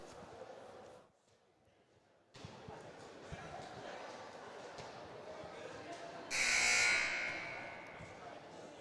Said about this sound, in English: looks like the buzzer will sound